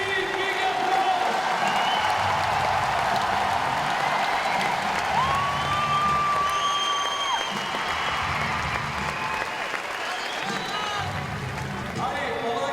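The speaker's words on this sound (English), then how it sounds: "Merci, big applause." Crowd applause and cheering at a women's lead and speed climbing world championship final in Paris, a loud sustained roar with whistles and shouts, while an announcer's amplified voice talks over it.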